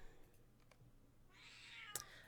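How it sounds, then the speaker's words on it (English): A cat meows faintly in the background, a soft call rising then settling into a brief broadband rustle, with a sharp click near the end; no one speaks over it. "Meow, kitty cat."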